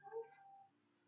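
A cat gives one short, soft meow, close but quiet, fading into near silence.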